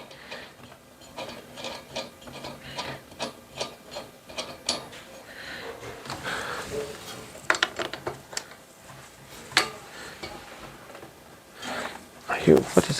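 Screwing a cable management tray clamp onto the underside of a desk gives irregular clicks, ratcheting taps and creaks, close and moderately quiet, with scattered louder knocks toward the end and a person talking at times.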